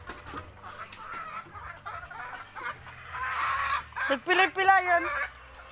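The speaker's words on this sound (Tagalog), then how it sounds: "Ganda ng manok ni Gamu Farm." A rooster on a Filipino gamefowl farm clucks and calls nearby, the sounds growing louder and more excited toward the end, with faint talk and other farm noise behind.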